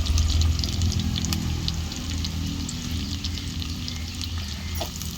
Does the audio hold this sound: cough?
no